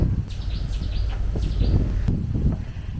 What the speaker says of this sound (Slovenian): Ptice se skrivajo, tako da jih ni videti, slišati jih pa je precej.